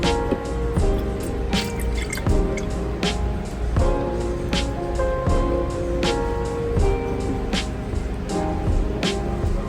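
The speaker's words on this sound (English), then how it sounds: "we'll just pour it into this quart jar and I'll store it in the refrigerator" Buttermilk pours and splashes steadily into a glass quart jar, with dripping and gurgling throughout, close and fairly loud.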